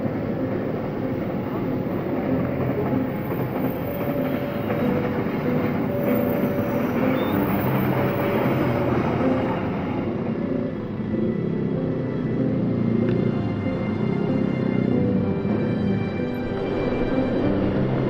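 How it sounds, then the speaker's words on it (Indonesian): A train passes near a road in the Sojomerto area, a continuous loud rumble of rolling wagons that holds steady for the whole stretch with little change. "Itu ada kereta ya."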